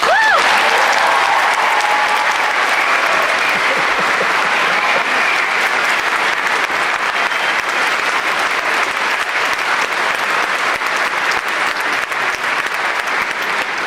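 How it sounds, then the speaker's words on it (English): A commencement crowd at a University of Illinois social sciences graduation applauds the mothers, a loud, sustained roar of clapping that stays full and even across the whole stretch. "let's all give our moms a round of applause"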